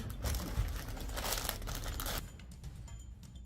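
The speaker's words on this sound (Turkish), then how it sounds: "Abla bir poşet. Hadi açalım." Close, busy crinkling and rustling of a plastic bag being handled and pulled open, loud at first and then settling into softer crackles.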